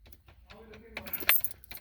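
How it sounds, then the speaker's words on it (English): Ignition key turned off in a 2005 Chevrolet Avalanche with a 5.3 L engine, a brief close jangle and click of keys over a few quick metallic taps, fairly quiet. "We turn the ignition off."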